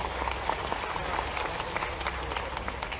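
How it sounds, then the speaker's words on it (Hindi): Audience applause at a Bhopal event launching a cyber awareness campaign, after a speech by the Chief Minister of Madhya Pradesh: a dense, steady wash of many hands clapping with some crowd murmur, sustained throughout. "हम जोरदार तालियों के साथ पुनः मध्य प्रदेश के माननीय मुख्यमंत्री जी का धन्यवाद ज्ञापित करते हैं"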